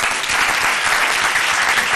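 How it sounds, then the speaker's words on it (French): Audience applause for a guest at a comedy show in Matadi, dense continuous clapping that stays loud and steady throughout. "Allez, applaudissez pour lui."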